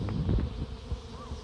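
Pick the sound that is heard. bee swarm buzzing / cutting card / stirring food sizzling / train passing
bee swarm buzzing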